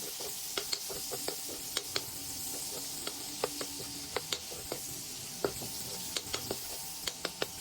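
Garlic and onion sauté in a very old frying pan from 1978, a steady sizzle beneath sharp, irregular clicks of a utensil scraping and stirring, close and fairly quiet.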